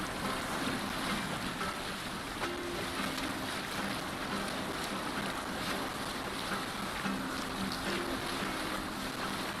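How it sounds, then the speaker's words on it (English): A Viking longship under sail at sea in Assassin's Creed Valhalla, with a constant broad wash of wind and waves and creaking boat noise, steady and immersive with no talk. "Set the mast up! Run up the sail!"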